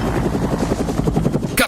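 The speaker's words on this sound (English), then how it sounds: "Dutch survives the Predator's self-destruct device and is picked up by the chopper" Helicopter in an action film scene, its rotor beating in a steady rapid thump that stays loud and close throughout, with a brief sharper burst at the end.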